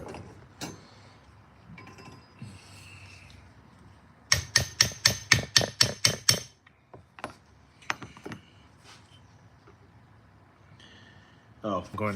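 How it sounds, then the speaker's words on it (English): A hammer strikes a clip on an FS 240 during an inspection, a rapid burst of about ten loud, sharp metallic taps close by, followed by scattered clinks and handling noises, with a person talking before and after. "This is where the hammer would come in handy."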